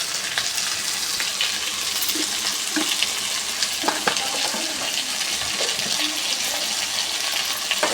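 Potatoes with curry leaves sizzle steadily in a pan while being stirred, with a constant loud frying hiss and occasional scraping clinks of the spoon, and no talk.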